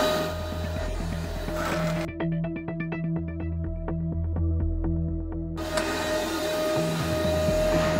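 A belt sander with an 80-grit belt works a fiberglass bow while a shop vac collects the dust, making a loud continuous motor whine and hum. Midway the broadband noise cuts out for a few seconds, leaving a tonal, pulsing buzz.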